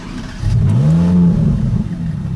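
A Ferrari's naturally aspirated engine revs up sharply, rising in pitch to a held peak before easing back down, loud and close with no talking.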